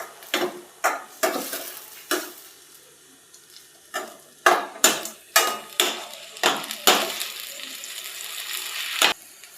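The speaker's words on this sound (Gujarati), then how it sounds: "હવે આપણે ટમેટાનું ઝીણી ઝીણી કટ કર્યું હતું એ નાખી દઈશું એમાં અને સરસ રીતે મિક્સ કરી લઈશું." Chopped tomatoes being stirred into frying onions in a pan make a series of short scraping strokes with bursts of sizzle, loud and close, separated by quieter pauses as the spoon moves in uneven rhythm.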